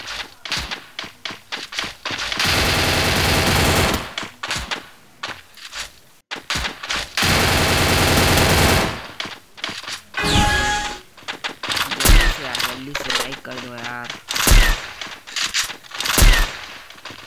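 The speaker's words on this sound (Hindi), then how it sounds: "आगे में भाई फायरिंग कर रहे हैं।" Counter-Strike gunfire: bursts of rapid automatic shots and fusillades come in clusters, loud and close, separated by short pauses and a few thuds and footsteps.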